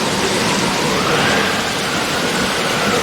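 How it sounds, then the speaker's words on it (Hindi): Steady rain falling outdoors, a dense even hiss of drops that stays loud and unbroken throughout with no voices. "ये बारिश हो रही है।"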